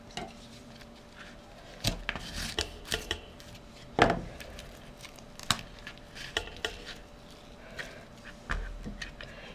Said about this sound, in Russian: Сначала капусту нужно разделать. Для этого вот эту часть нужно